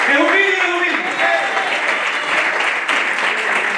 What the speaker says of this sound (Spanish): Le doy un aplauso a don Miguelito